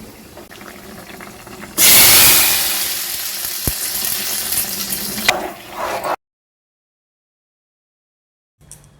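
Panch phoron tempering poured into a rohu fish curry gives a sudden loud hiss that gradually fades. A short burst of clatter follows, then silence.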